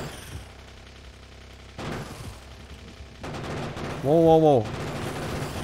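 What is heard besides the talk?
gunfire in the Factorio video game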